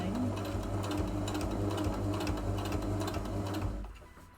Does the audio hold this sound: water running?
no